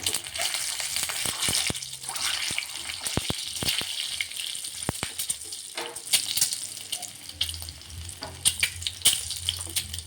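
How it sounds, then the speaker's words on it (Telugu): An egg frying in hot oil in a pan: steady loud crackling sizzle with scattered sharp pops and spatters throughout, no talk. "ఇప్పుడైతే ఇందులో ఎగ్ వేసుకుంటున్నా ఓ ఇది కొంచెం ఫ్రై చేసుకున్నాము"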